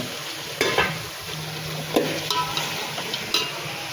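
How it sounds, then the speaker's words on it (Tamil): Washed chicken pieces sizzle as they go into a pan of sautéed onion and tomato, with a low, steady frying hiss and several sharp stirring scrapes and clinks at intervals. "சிக்கன் கழுவி வச்சுருக்க சிக்கனை போட்டுருங்க"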